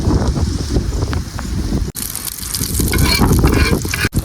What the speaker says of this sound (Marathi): पटापट तेल टाकून घेऊया आणि मग फ्रायला सुरुवात करूया